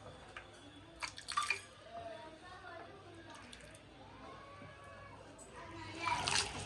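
Cut potatoes for homemade French fries being rinsed in water, with soft splashes and drips near the start and end and a person talking throughout.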